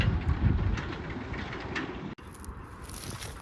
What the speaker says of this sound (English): Just missed the train go down the railway line there.